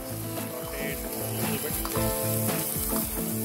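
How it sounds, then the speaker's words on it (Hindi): Chopped garlic, ginger and chilli roast in oil in a pan, a continuous close sizzle with stirring scrapes and clinks over a faint background hum. "अब इसे रोस्ट करना है जब तक ये ब्राउन नहीं हो जाते हैं"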